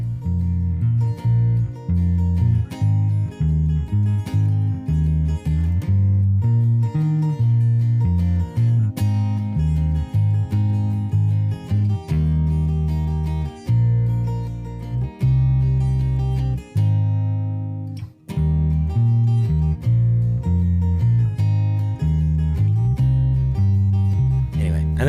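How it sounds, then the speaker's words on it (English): A bass guitar plays alone, a continuous groove of deep plucked notes with a steady rhythm and a brief pause midway. "So here's an isolated bass track."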